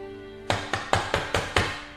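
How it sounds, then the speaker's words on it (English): Six sharp knocks on a door, sounding close and loud in a slightly uneven rhythm after a brief quiet moment with a low steady hum behind. "Knocks on the door."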